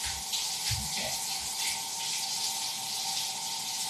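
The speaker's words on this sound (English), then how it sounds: "I'm going to wash some hair." Water runs steadily from a tap while hair is washed at a sink, a continuous hiss with a few brief knocks near the start and no talk over it.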